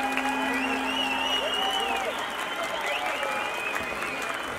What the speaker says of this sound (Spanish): Quiero pedirles un gran aplauso para todos los maestros de la Orquesta Sinfónica Nacional del Ecuador